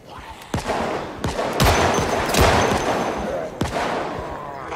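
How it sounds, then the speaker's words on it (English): Gunfire in the zombie survival game Project Zomboid: several sharp, loud shots at irregular intervals, each with a booming tail, over a steady rumbling background. "It's a random shot."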